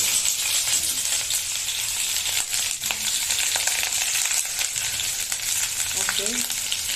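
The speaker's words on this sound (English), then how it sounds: "So the oil is already hot now, and put onion" Onion sizzles and crackles in hot oil in a pan, a loud steady frying hiss with scattered pops and light stirring clatter, and a few faint voice fragments near the end.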